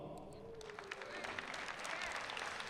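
An audience at a borough president's State of the Borough address breaks into applause, a steady wash of clapping that swells slightly, with a voice audible faintly underneath.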